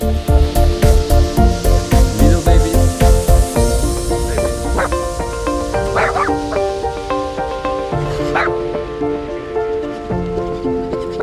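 Dogs at a municipal caravan park in Antalya bark in a rapid, loud burst of repeated yaps over the first few seconds, then the scene settles into a steady hiss with occasional faint sharp sounds.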